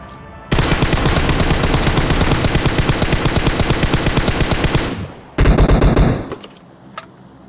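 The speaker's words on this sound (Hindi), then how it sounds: "तो मुझे सुनाई देता है फायरिंग का साउंड" Video-game gunfire from a Rush gameplay match: a long rapid burst of automatic fire, then a short pause and a second loud burst, with a faint shot or two afterward.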